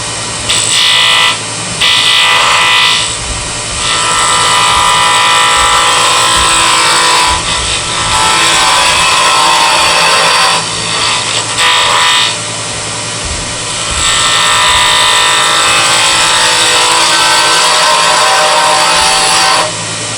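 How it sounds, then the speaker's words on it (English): A spindle detail gouge cuts wood spinning on a lathe, giving a loud, continuous scraping and hissing that swells and eases over several passes, with short pauses between cuts and no one talking. "spindle detail gouge"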